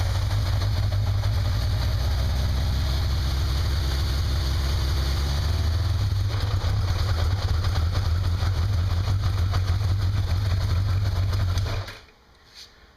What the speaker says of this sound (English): Starts up just fine, but look what happens when I put on the choke.